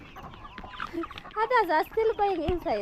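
Free-range chickens of a newly introduced flock cluck and chatter near at hand, their calls rising in a busy run through the second half while a person speaks over them.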